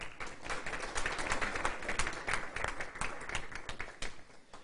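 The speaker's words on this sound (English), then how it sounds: "Let's have a round of applause for our new lifetime member, Deb Hackathorn with Civic Point." An audience at a journalists' panel event applauds a new lifetime member with steady, moderately quiet clapping of many overlapping hand claps that continues evenly, with no voices over it.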